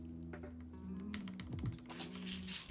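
Mechanical keyboard keys clatter in short bursts over a background hum, with tonal sweeps and other noise mixed in; a Matrix 3.0 build fitted with a large set of keycaps.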